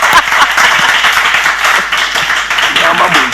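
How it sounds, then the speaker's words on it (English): Applause on a showbiz talk programme, loud close-up clapping with a busy, irregular texture, running steadily throughout with some voice mixed underneath. "A big round of applause for me."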